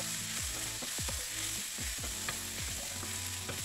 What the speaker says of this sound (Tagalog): I-gisa lang siya ng light